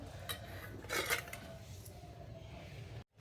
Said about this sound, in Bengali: ডিমগুলোর মধ্যে একটা ছুরি দিয়ে এইভাবে একটু একটু করে দাগ দিয়ে নেব